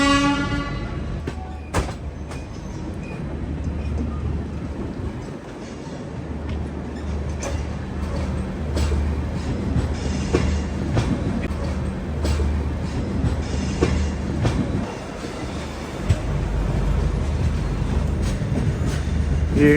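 The Kochuveli to Shalimar AC Superfast Express passenger train runs at speed, with a continuous rumbling roar, rhythmic wheel clatter over rail joints and occasional sharper knocks throughout.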